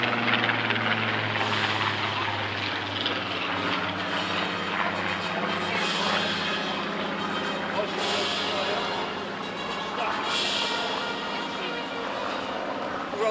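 One of the last three Spitfires retired from the RAF, a Rolls-Royce-supported display aircraft, flies at the Clacton Airshow, its steady engine drone sustained throughout while an announcer talks over it.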